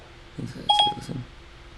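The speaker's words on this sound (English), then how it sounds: "FaceTime audio, Darwin Nigera." A phone starting a FaceTime audio call gives a brief electronic tone, a clear beep standing out from quieter chiming around it, with no talking.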